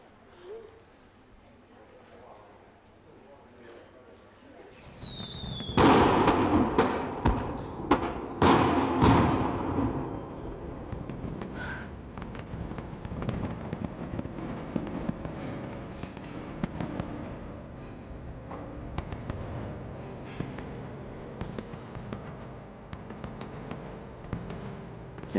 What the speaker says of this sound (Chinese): 你不是一直想看一场盛大的烟花吗？